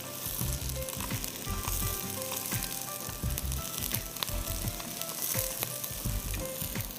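Cashews and whole garam masala fry in hot oil in a non-stick pot, making a steady close sizzle and crackle with scattered soft knocks and pops throughout and no talking.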